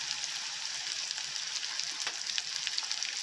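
Chopped onion with hing and leaves frying in a pan, a soft steady crackling sizzle with small popping bursts, quiet and close, no speech.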